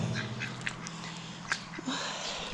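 Ducks on a rainy day quack in a few short, scattered calls at close range, with faint background noise between them.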